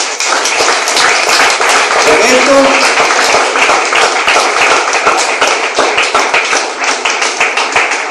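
Church congregation gives a loud, sustained round of applause, dense rapid clapping filling the whole span with steady intensity, fading slightly toward the end.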